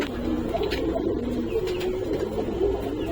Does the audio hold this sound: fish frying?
no